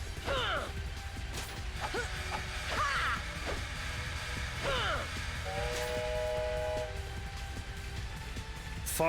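Train ride in the video game Musashi: Samurai Legend, with rumbling mechanical rail noise under game music, recurring sliding whistle-like tones and a steady sustained horn tone midway.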